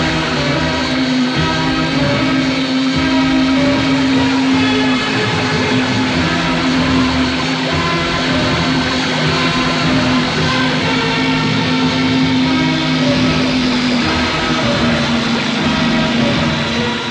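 A motor boat engine running steadily and loudly for the whole stretch, a constant droning hum with a steady tone and no pauses.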